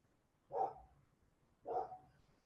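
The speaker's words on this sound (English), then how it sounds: "I apologize if you hear my neighbor's dogs barking in the background" A neighbor's dog barks twice in the background, about a second apart. Each bark is short and faint, with near silence around them.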